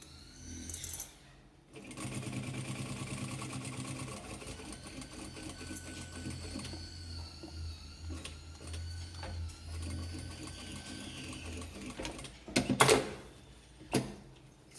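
A sewing machine runs a steady mechanical stitching hum at half a centimetre from the edge, backstitching while sewing fabric scraps for a multipurpose pouch. It pauses briefly near the end with a few louder clicks and knocks.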